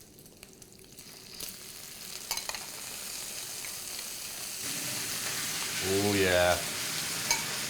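Bacon and prawns fry in a pan, a steady close sizzle and crackle building through the clip with a brief stirring scrape near the end; a voice speaks briefly.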